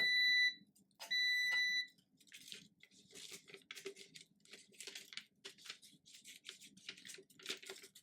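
A sublimation tumbler heat press gives two long electronic beeps, followed by soft rustling and handling noises, all fairly quiet and with no talking.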